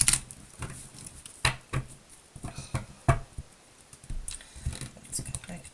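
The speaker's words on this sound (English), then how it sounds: "One more shuffle here, folks." Crisp riffling and snapping bursts of shuffled cards come in irregular clusters, close up, with soft handling noises between them.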